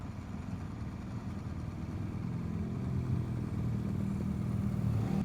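Touring motorcycle with an aftermarket exhaust on the road in Corsica, a steady low throaty rumble close by that swells slightly midway, with no voices.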